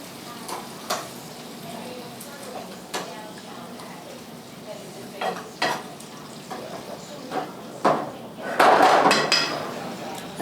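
Pepper steak with A1 sauce and brown sugar is stirred in a pan, with repeated scraping and clanking of a utensil against metal over a soft simmer, close and uneven, with a voice talking now and then.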